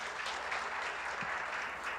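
Church congregation applauding together, a dense, steady clapping from many hands sustained throughout, heard from a distance in a large room.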